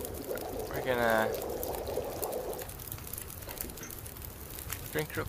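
Water being drunk in The Long Dark, a gulping, pouring liquid sound lasting about two seconds near the start, followed by quieter ambient noise.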